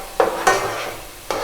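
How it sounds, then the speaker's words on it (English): Mustard seeds and green chilies sizzle steadily in a hot pan, with a few sharp scraping stirs and clinks of a utensil against the metal. "Mustard and green chilies frying gives off an awesome smell."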